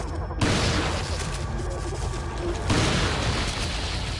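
Dense, continuous gunfire and booming blasts from the video game Resident Evil 4, loud and sustained throughout with a sharp burst at the start and another surge midway.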